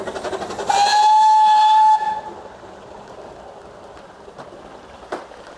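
A train passes a wagon repair shed, sounding a loud steam whistle blast for about a second before fading into rumbling rolling-stock noise with occasional clanks.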